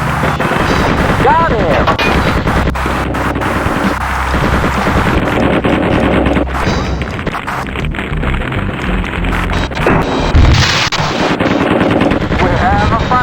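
An A-10A Thunderbolt II's cannon firing in the Fighters Anthology flight game, loud sustained bursts of rapid gunfire with engine roar, and someone briefly speaking over it.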